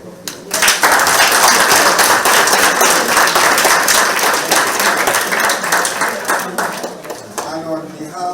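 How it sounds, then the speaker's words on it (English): A room gives a round of applause for a chief at a first-peoples museum visit, loud dense clapping starting abruptly and holding steady before thinning out at the end, close and without talk. "the chief deserves another round of applause"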